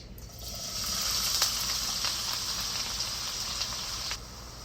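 Onions and garlic sizzle in hot vegetable oil in a pan, a steady, close crackling hiss with scattered pops that swells up after a brief start and then cuts off near the end.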